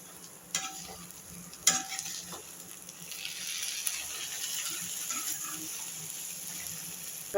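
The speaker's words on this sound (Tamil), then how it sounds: "மிதமான தீயில் மூடி வேக வைக்கணும் இல்லாட்டினா அடியில் பிடிக்கிறதுக்கு வாய்ப்பு இருக்குது இடையே திறந்து பார்த்து கிளறணும்" Raw mango pickle cooks in a pan and is stirred, a couple of sharp scrape-clinks early on and then a steady frying sizzle with soft stirring noise, close and without voices.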